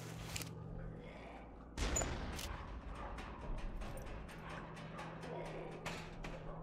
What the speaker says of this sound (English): You heard that, right? That was an explosion.